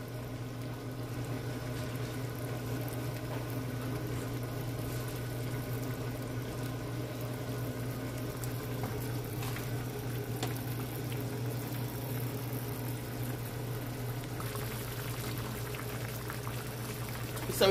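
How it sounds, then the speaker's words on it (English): Sausage and rice with barbecue sauce boils in a pot on the stove, a steady, even bubbling that runs unbroken and close for the whole stretch with no voices. "I add the barbecue sauce and we are gonna let it boil in"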